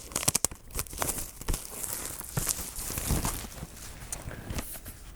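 The plastic wrapping on a Porcupine Tree Closure/Continuation black vinyl record is ripped open. Close crinkling and sharp tearing crackles come in uneven bursts throughout.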